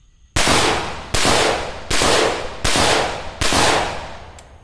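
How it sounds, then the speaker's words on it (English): A rifle with a HUXWRX Blastphemy muzzle device fires five 62 grain M855 rounds in steady succession, each close, loud blast blooming into a sustained roar before the next, with no pause for speech. "62 grain M855 with the Blasphemy."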